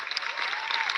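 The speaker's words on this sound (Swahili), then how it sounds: "Tumpigie makofi tafadhali" Audience clapping at a stage event in Kenya where songs are performed, a dense steady burst of many hands close by that fills the whole moment.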